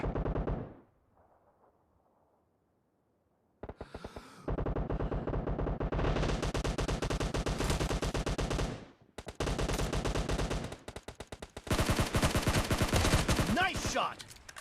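Rapid automatic gunfire from the PUBG video game. Loud bursts of shots come in long dense runs with brief gaps, after a short quiet pause near the start.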